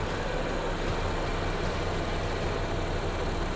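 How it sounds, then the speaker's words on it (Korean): Honda Odyssey 3.5 fifth-generation minivan engine idling with the hood open, a faint, even, steady hum with no variation. "엔진 소리 일정하네요"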